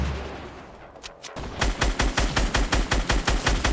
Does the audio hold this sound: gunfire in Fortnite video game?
yes